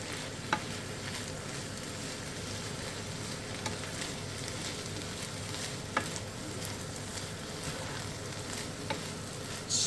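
A one-pan lasagna mixture sizzles steadily in a hot pan while being stirred, with a constant frying hiss broken by occasional faint scrapes and clicks of the utensil, close and alone.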